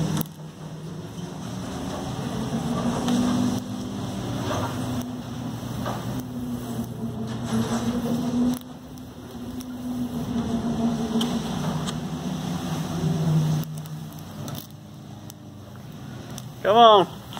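A 400-watt wind turbine bought on eBay spins in gusts above 50 mph, giving a steady whirring roar buffeted by heavy wind noise on the microphone, with a brief rising whine near the end.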